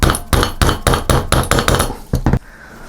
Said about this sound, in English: So I'm just going to get a little hammer and tap it through.